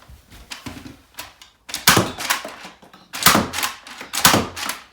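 A Nerf Nailbiter blaster fires foam darts outdoors in a backyard shooting test, giving a run of sharp clacking shots in irregular bursts, close and fairly loud, with no talking.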